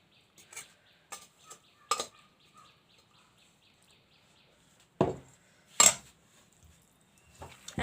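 Mashed banana being mixed into kofta mixture in a bowl, heard as sparse clinks and taps of a utensil against the bowl with quiet gaps between, plus a few louder scraping knocks.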